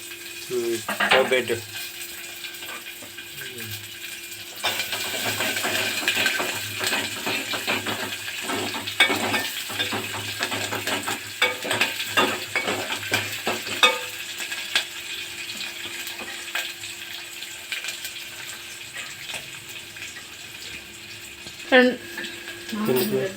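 Cumin, mustard seeds, curry leaves, onions and dry red chillies frying in hot oil for gongura pappu, a steady sizzle with stirring scrapes and clinks of a pan throughout, with a few brief voices in the background.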